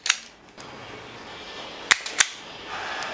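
A Jokari wire stripper quickly stripping a blue electrical wire, giving two sharp, close snapping clicks about a third of a second apart. A brief click comes first, and light handling noise and room hiss sit underneath.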